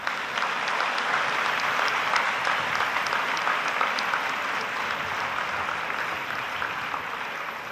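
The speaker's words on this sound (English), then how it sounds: "you are overwhelmingly giving a big clap" A large student audience at a Sri Sathya Sai convocation gives sustained, dense applause, steady and loud throughout with no talk over it.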